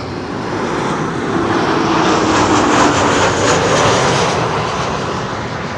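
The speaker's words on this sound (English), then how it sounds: "KLM flight 1042, arrival from Birmingham, 737-800" A KLM Boeing 737-800 arriving from Birmingham passes close and loud at Schiphol, a strong sustained jet engine roar that peaks midway and eases slightly toward the end.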